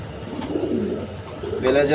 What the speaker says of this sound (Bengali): এখানে 1 পেয়ার বেলাজিয়ার কবুতর আছে